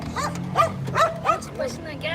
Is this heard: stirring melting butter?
no